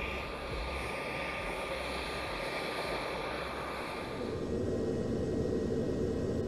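A U-2 Dragon Lady reconnaissance jet on its takeoff run, with a loud, steady, broadband engine roar that swells slightly toward the end, heard alone without voices.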